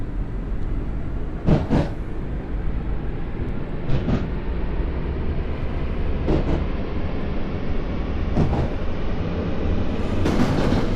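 An in-game Chuo Rapid Line commuter train, up to twelve cars long, rumbles steadily along the rails in JR East Train Sim, with sharp clacks from the wheels over rail joints repeating every couple of seconds.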